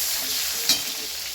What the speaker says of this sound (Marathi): त्याच गरम कढईमध्ये थोडंसं तेल टाकून कांदा फ्राय करून घेत आहे